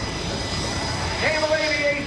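A Boeing EA-18G Growler jet flies at the 2018 NAS Oceana airshow, giving a steady, loud broadband roar that swells slightly toward the end, with crowd voices mixed in.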